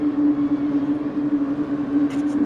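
Racing car engines in a Mazda Roadster Cup race at Brands Hatch Indy, in a video game, hold a steady, loud droning hum before the start, with a few brief higher chirps near the end.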